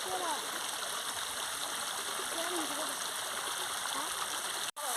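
A waterfall near a Shiva temple rushes in a constant, broad roar, with a voice speaking over it and a brief dropout near the end.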